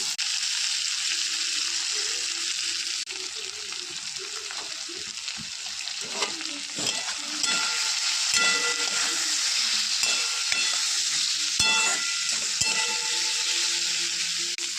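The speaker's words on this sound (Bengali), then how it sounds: "আমি এবার ভেজে রাখা আলু আর বেগুনটা দিয়ে দিচ্ছি।" Previously fried potato and eggplant go into a hot pan for a puti fish curry, setting off a steady close sizzle with scraping stirring noises running throughout.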